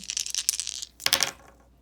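Dice rattle and clatter in a quick burst, then a second sharper roll lands and settles, close and fairly loud, during a tabletop baseball board game replaying the 1974 Dodgers against the 1961 Reds.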